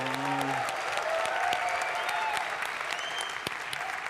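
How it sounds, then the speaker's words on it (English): An audience at a London Bitcoin conference breaks into steady applause for a guest in the front row, sustained clapping throughout with faint voices and a brief hum underneath. "round of applause for George Gilder"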